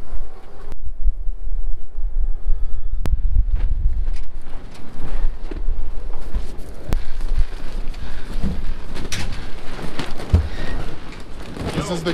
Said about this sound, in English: It's kind of noisy. Kind of loud and windy.